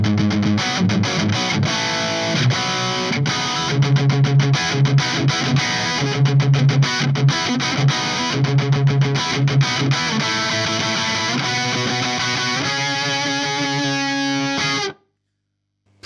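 Heavily distorted electric guitar through a Peavey 3120 amp on its high-gain rhythm channel with no boost, chugging palm-muted rhythm riffs that open into sustained chords, loud and alone before cutting off abruptly near the end.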